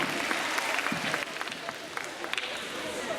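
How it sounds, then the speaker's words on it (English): An audience at a conference stage hypnosis show gives a volunteer a round of applause, a steady wash of many hands clapping with scattered cheers, while the performer's voice carries on over it. "Give her a round of applause."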